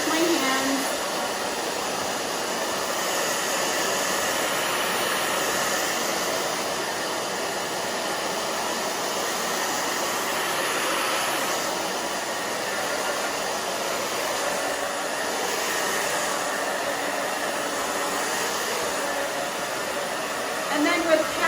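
A hair dryer blows steadily while drying a fine bob haircut, a constant close whooshing hum with slight swells as it moves around the head, loud and continuous.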